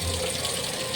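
Water pours steadily into the drum of a Samsung automatic washing machine, a constant, close rushing fill with no break.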